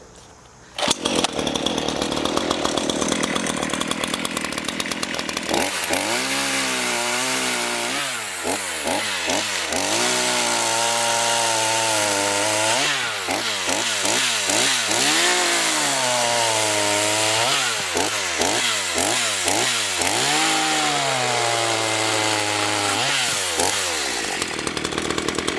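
A new Black and Decker 42cc gas chainsaw cuts through a hard hickory branch outdoors, loud and close, the engine revving up and dropping in repeated surges as the chain bites into the wood.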